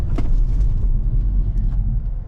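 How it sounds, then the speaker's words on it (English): A 2023 Kia Seltos LX AWD brakes hard from 44 mph, a loud low road rumble and drivetrain drone heard from inside the cabin, steady and heavy throughout with faint higher noise near the start. "We'll do an emergency brake."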